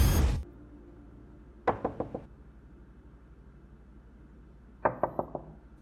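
Two bursts of rapid knocking and banging on a door at night, each a quick run of four or five sharp, loud raps close by, separated by a pause of about three seconds.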